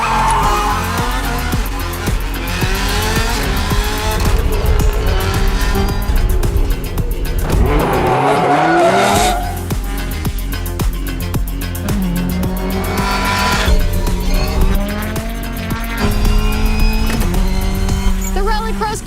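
Race cars tear around a track at full throttle, their loud engines roaring and rising through gears continuously, with a brief rougher squeal-like stretch near the middle.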